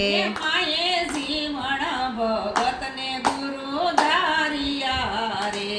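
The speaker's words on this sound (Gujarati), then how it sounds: "તાળી પાડો લીરબાઈ માના નામની રે" Rhythmic hand clapping keeps time in a Gujarati devotional song honoring Lirbai Ma, with sharp claps at a steady beat under a sung melody and harmonium-like tones.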